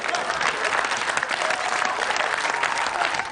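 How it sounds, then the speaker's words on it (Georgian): Studio audience at a Georgian TV comedy show applauding, a full, sustained burst of many hands clapping that stays steady throughout, with faint crowd murmur beneath. "დაუკარით ტაში"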